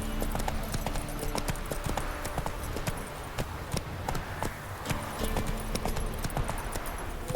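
Horse Roach gallops in The Witcher 3 video game, with a rapid, steady clip-clop of hooves that stays loud and close throughout, with no voice over it.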